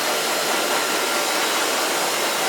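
A hair dryer blows on hair at close range, a loud, steady broadband whoosh of air that holds unchanged throughout, with no voices.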